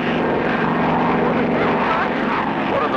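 Steady propeller airplane engine drone from a 1959-60 Clutch Cargo cartoon, a floatplane in flight, loud and continuous throughout with no pauses.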